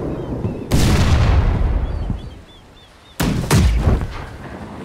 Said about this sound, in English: Just keep firing your cannons at that ship.